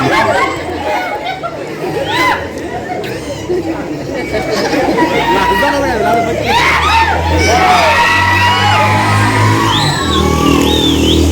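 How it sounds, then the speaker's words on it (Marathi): A loud crowd of children shouts and chatters all at once at a village bharud folk performance, the noise building and staying dense and close throughout. "पोरांना विनंती, लय आरडू नका"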